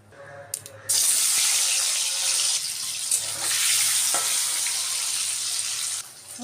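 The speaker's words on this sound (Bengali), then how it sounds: "এদিকে তেল দিয়ে দিলাম এগুলোকে একটু ভেজে নেবো" Vegetables frying in hot oil, a loud, steady broadband sizzle that starts abruptly after a brief quieter moment, holds evenly for several seconds, then drops back at the end.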